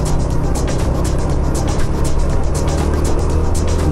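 Suzuki GN125H 125cc motorcycle engine pulling steadily under acceleration while riding, a loud continuous drone with rising pulses over heavy wind rush.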